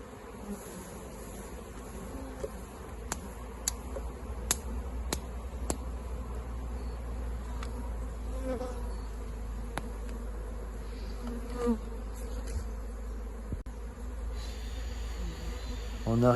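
Honeybee swarm being hived into frames from a cardboard box, a steady low insect drone close by with occasional sharper buzzing passes and small bumps and knocks.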